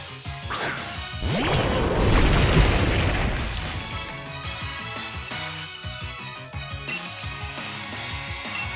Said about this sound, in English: Rider used Heat Crash.